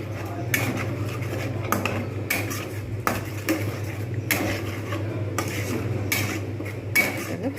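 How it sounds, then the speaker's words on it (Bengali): Egg korma masala being sautéed in a pan, a spatula scraping and knocking against the metal in a steady irregular rhythm over a low hum of frying, close and fairly loud. "ভালো করে এটা কিন্তু আমি কষে নেব।"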